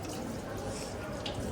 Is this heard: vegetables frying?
no